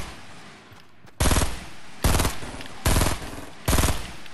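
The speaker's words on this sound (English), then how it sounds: "Let me shoot you off" Gunfire in the Fortnite battle royale game: four loud, close bursts of rapid automatic fire, each about half a second long, evenly spaced over a few seconds, with quieter game ambience between them.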